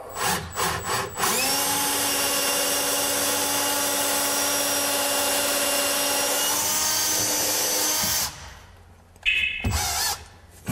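Power drill whirring steadily as it drives screws into a kitchen cabinet valance skirt, a few short trigger bursts first, then one long sustained run that cuts off into quiet handling noises.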